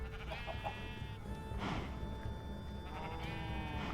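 Sheep bleat a few times in a video game, short wavering calls over a steady ambient background, with no one talking.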